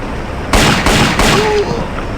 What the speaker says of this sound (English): Right, machine pistol.